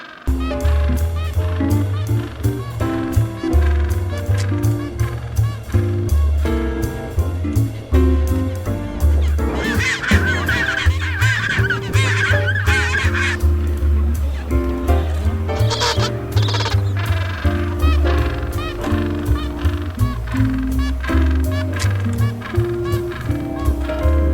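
A dense chinstrap penguin colony in Antarctica brays and squawks continuously, many birds calling over one another at once, loud and close.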